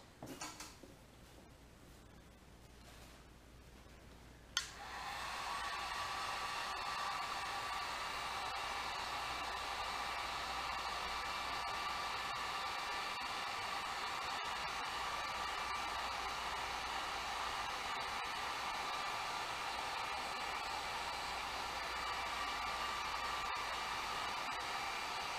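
A heat gun switches on with a click and then blows a steady, even whoosh with a faint high whine while shrinking heat shrink tubing over a crimped wire on a Jeep Grand Wagoneer, close and continuous for over twenty seconds.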